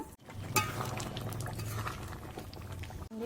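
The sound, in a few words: aloo dum (potato curry) cooking covered in a pot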